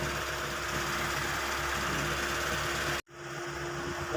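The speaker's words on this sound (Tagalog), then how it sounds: "kung titingnan nyo maganda pa yung makina." A 1995 Mitsubishi Lancer engine idles with a steady, even hum and faint mechanical ticking, then cuts out abruptly and the sound drops before a low hum slowly returns.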